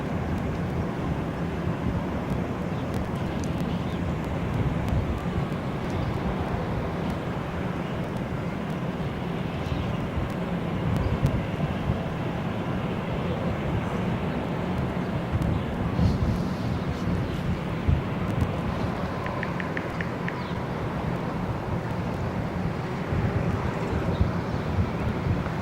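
An American Airlines Boeing 787 Dreamliner takes off from Barcelona, a steady broadband jet roar holding for the whole stretch, wind buffeting the microphone throughout.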